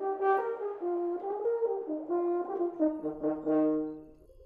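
A French horn plays a smooth, mellow melodic phrase of several connected notes, clear and fairly soft, with a lower sustained note joining near the end before it fades.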